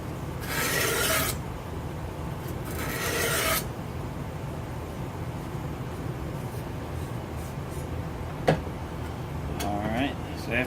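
A handmade chef knife tip rubbed on a sharpening stone, two gritty rasping strokes up close at the start, then a steady low hum with faint scrapes and a click, with someone talking.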